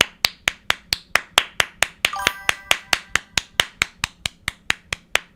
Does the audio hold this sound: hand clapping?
yes